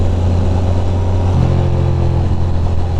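Ducati and Yamaha motorcycles riding hard on a winding road, a loud, steady engine drone with a rising rev as one accelerates, close and continuous with no talk.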